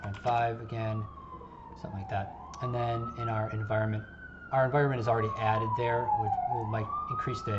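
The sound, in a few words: emergency vehicle sirens outside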